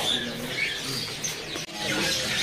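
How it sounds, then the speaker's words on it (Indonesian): Several whistled and chattering Asian pied starling calls ring out close by against a busy bird market background, a few clear notes standing out among the noise. "di sini juga ada burung jalak suren gacoran"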